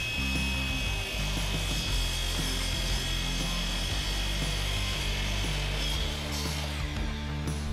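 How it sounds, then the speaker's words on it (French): Saw cutting through the top guide profile of a sliding door, a continuous loud rasping drone with a steady grinding texture running throughout, no voices present. "il faudra donc couper le guide supérieur à la taille exacte,"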